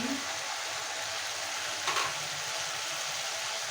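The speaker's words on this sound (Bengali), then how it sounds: "মশলাটা কষিয়ে নেওয়ার জন্য একটু জল দেব।" Spice paste fries and sizzles in a pan for a mrigal fish and kochur loti dish, giving a steady close hiss with a brief louder burst midway, no talking.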